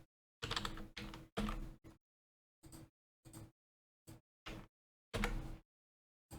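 Short bursts of typing on a computer keyboard, clustered keystrokes separated by brief silent pauses, close and clear with no talking.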